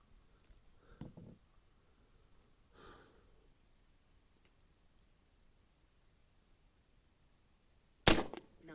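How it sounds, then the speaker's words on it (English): A single sharp, loud crack from an Umarex Gauntlet 2 .30 caliber airgun sounds near the end, after several seconds of near silence broken by faint breaths and small handling noises. "I'm going to keep shooting"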